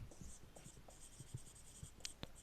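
Chalk or marker writing on a board during a differential equations lecture: a run of short scratchy strokes and taps, fairly close, with a couple of sharper squeaks near the end and no talk.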